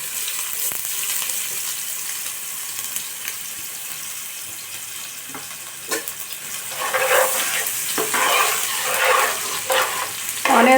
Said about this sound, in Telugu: ఆనియన్స్ కూడా బాగా ఫ్రై చేసేసుకున్నామండి.